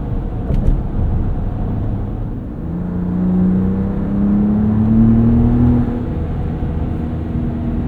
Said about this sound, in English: The engine is really quiet. I wouldn't mind just a little bit more volume out of this.